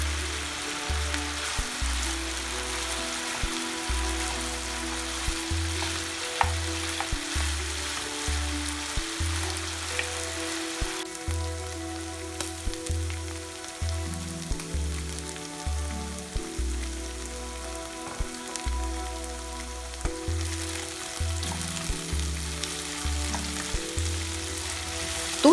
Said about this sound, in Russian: В разогретое масло выкладываем кусочки курицы